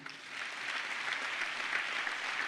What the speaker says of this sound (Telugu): చప్పట్లు కొడతాం గట్టిగా